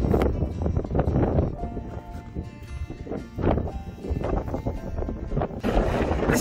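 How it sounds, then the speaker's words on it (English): Gusty wind blows above treeline on Mount Adams in New Hampshire's Presidential Range, a loud, buffeting roar hitting the microphone in uneven surges. "This is where the wind starts."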